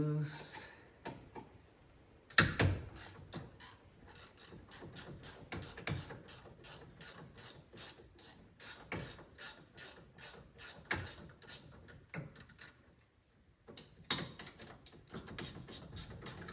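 Brake caliper bolts on a Polaris Ranger are worked loose, probably with a ratchet, giving a quiet stream of rapid clicking ratchet strokes in irregular bursts, with occasional louder clunks.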